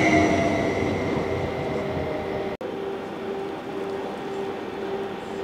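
A BLS Mika electric train from the Lötschberg line passes through Spiez station, giving a steady, close rolling rumble with a sustained electrical hum throughout and no voices.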